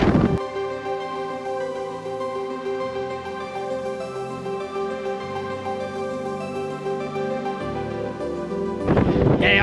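Strong wind blowing in Hobart, Tasmania, a loud steady roar buffeting the microphone throughout with no speech heard.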